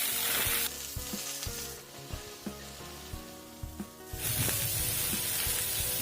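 Chopped tomatoes for dum aloo gravy hitting a hot pan, a loud sizzling hiss that dips into quieter frying with a few stirring knocks, then surges again near the end, close by with no speech.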